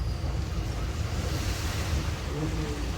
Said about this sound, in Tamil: வெறும் ரோட்ல எவ்வளோ தண்ணி போகுது பாருங்களேன்